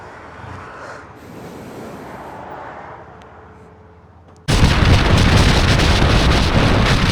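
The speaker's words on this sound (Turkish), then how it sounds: "bu arada rüzgar gerçekten çok esiyor ya şu an" Quiet gusty ambience for a few seconds at a petrol station, then a sudden loud blast of strong wind buffeting the microphone that roars on steadily to the end.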